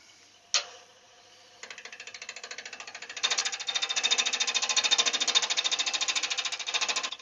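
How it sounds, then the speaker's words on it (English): A woodturning tool bounces and chatters against a thin wooden cabriole candlestick on the lathe, a rapid close rattling that starts with a sharp knock, then grows louder and more insistent as cutting continues. "Because I can't get it with my tool, it just bounces all the time."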